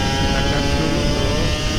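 The engine of an old Kawasaki Ninja RR 150 motorcycle runs loud and close with a steady, buzzing drone, held high with no clear break.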